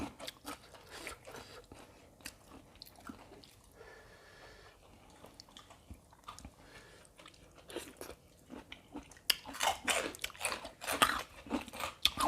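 Crisp, close crunching bites and chewing of bitter melon with papaya salad and pickled crab, irregular at first, then quicker and louder near the end.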